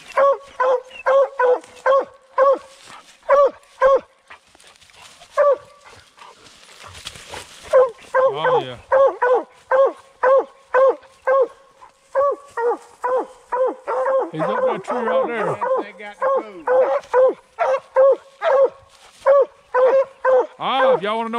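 Coon hunting dogs bark continuously outdoors, rapid repeated baying and yipping from two dogs close by, with short whines mixed in and a brief rustle in the middle.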